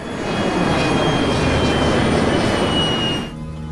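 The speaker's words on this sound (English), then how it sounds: "Captain Waters reduces power on the engine to idle to protect it from damage" Aircraft engine drone in flight, a steady broad roar with a faint whine, holding constant before dropping off sharply near the end as power is pulled back to idle.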